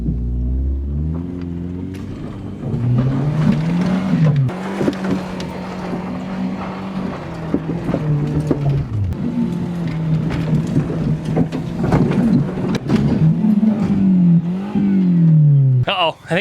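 Car engine running on movie theater popcorn butter in place of oil, revving repeatedly with rising and falling engine tones, loud and close, with short pauses between revs and some background noise.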